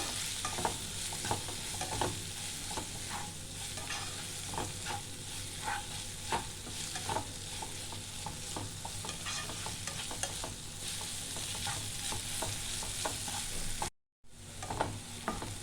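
Green chillies fry in oil in a pan, a steady sizzle with regular light stirring clicks throughout, then a brief silence near the end.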